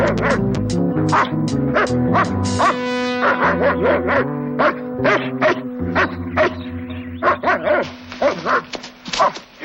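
Dogs bark loudly and close in a rapid series of sharp, repeated barks and yips, some overlapping, with brief whimpers between bursts against a steady background hum.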